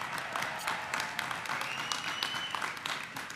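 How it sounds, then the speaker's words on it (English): A graduation ceremony audience applauds at a master's recognition event, a sustained wash of many hands clapping together, fairly close and even throughout. "Let's give it a round of applause for the people who graduated today."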